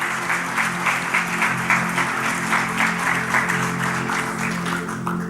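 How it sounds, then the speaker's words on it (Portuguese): Church congregation applauding, a dense steady clapping from a sizable crowd indoors that holds evenly for several seconds, no voices over it. "Pode aplaudir o Senhor."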